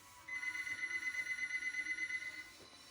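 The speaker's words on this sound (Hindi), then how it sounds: "रेकी का फोन जो उसने गलती से किचन में छोड़ दिया था वो रिंग हुआ।" Phone left in a kitchen, Minecraft video game, ringing: a faint, steady electronic trill pulsing rapidly for a couple of seconds, heard alone.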